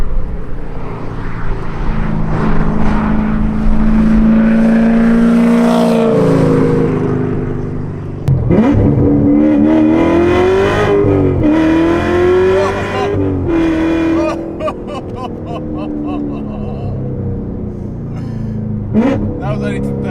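A 900bhp Corvette Z06 accelerates hard through the gears, its engine note climbing in pitch, dropping at each shift and climbing again, loud and close with people talking over it.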